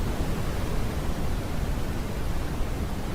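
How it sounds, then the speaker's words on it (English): Steady artificial white noise of the kind used to aid sleep, a broad, even hiss holding at a constant level throughout with no voices or other sounds. "Maybe you use artificial white noise or have a fan running in the background"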